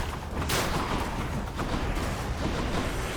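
An explosion in the video game Hades bursts out as a loud, dense, roaring blast inside a continuous wash of noisy combat sound, with no talk over it.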